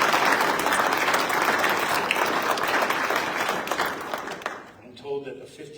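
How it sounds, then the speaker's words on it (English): Audience applause at a military assumption of command ceremony, a dense burst of clapping from a crowd that holds steady and then fades out, with a voice speaking briefly at the end. "Please, big round of applause."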